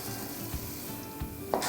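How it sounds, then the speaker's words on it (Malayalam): Roasted gram (pottukadala) roasts in a pan with a low, steady sizzle, while a couple of soft scrapes and knocks from stirring come close by. "പൊട്ടുകടലയിട്ട് നമുക്കൊരു 2 മിനിറ്റ് റോസ്റ്റ് ചെയ്യാം കേട്ടോ"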